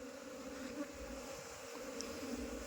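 Aggressive Apis cerana honeybees buzzing around a hive box during a colony transfer, a faint, steady droning hum of many insects close by, with no voices.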